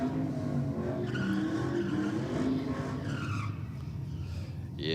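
A V8 street car launches down a drag strip with a loud, raspy engine roar and tire squeal, mixed with a crowd and commentary voices, and its sound fades as it pulls away.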